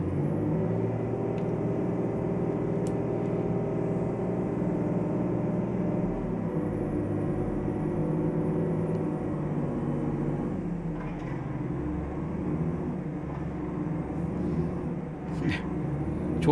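Scania R450 truck in Euro Truck Simulator 2, its modded engine droning steadily with a deep, loud hum throughout, easing slightly partway through, with a brief hiss near the end.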